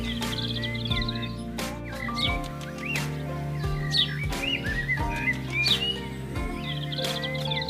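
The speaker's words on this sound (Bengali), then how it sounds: "বনে চলতে চলতে নানা ধরনের বন্যপ্রাণী, পাখি ও কীটপতঙ্গের শব্দ শোনা যায়।" Birds chirp and whistle in Lawachara forest, with varied calls layered and repeating at mid distance over a steady hum of insects. Some calls are loud and close, others faint.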